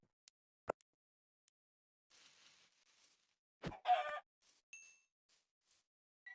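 Chicken clucking in a video game, short sparse clucks and a few brief clicks against near silence, quiet and intermittent over several seconds.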